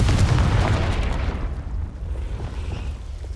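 A Confringo blasting spell explodes in the Hogwarts Legacy video game: a loud, deep boom with a rumbling burst that slowly decays into a fading hiss.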